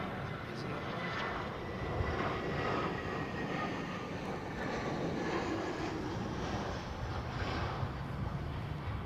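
An aircraft arriving at Heathrow gives a steady, broad jet roar that stays fairly loud and even throughout, with people talking now and then over it.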